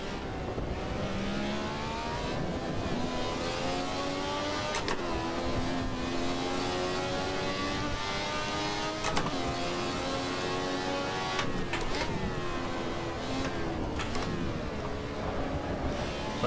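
Ferrari 312T Formula 1 engine in the racing game Assetto Corsa at Imola, a steady high-pitched racing engine note running continuously with repeated sharp upshift cuts and revving, loud and alone without talk.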